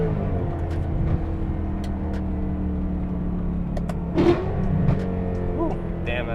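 A BMW E92 M3 with its intake valves open and a repaired carbon fiber plenum revs hard, its loud, rumbling engine note rising and falling in a few sharp bursts over a steady idle drone, heard from inside the car.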